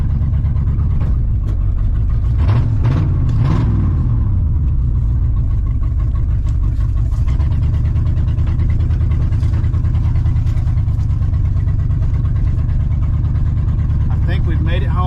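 Old Ford F-150 pickup that sat for 15 years, its engine running rough with a loud, uneven low rumble throughout, close up from inside the cab, with people talking over it.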